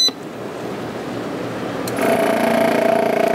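A vacuum marinator machine starts its vacuum cycle midway, a steady motor hum with a faint high whine rising abruptly and running on, moderately loud and close.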